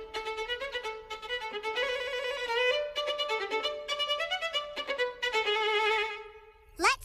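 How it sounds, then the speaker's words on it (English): Ocean buoys in the Little Einsteins cartoon ring as a bright, bell-like musical melody, short repeated phrases of chiming pitched notes played clearly with no talking over them. "The buoys on the map sound like this."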